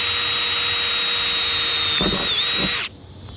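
Power drill with an 1/8 inch bit boring holes in a truck cab roof, a steady high whine held close for nearly three seconds, dipping briefly as it bites through, then cutting off.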